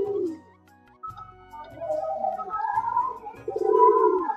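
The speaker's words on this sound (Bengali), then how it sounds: "মেয়ে পায়রা হয়ে ছেলেদের মতো ডাকাডাকি করে শুধু সারাদিন" A female pet pigeon coos repeatedly indoors in a series of low, throaty pulses, close and fairly loud, with a faint vocal-like hum and breathy sounds mixed in.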